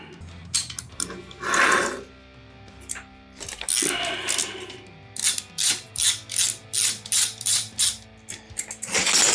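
A ratchet wrench with a 15 mm socket works on a bicycle, giving close, crisp ratcheting clicks. It starts with a few irregular bursts, then settles into a steady series of about ten evenly spaced back-and-forth strokes, with no talking.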